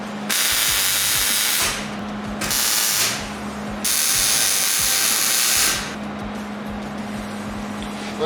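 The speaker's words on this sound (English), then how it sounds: "So, and we'll start welding." Steel being welded for a custom desk in a shop, a loud, steady crackling hiss that runs in long stretches, stops briefly twice and starts again, with a low hum underneath.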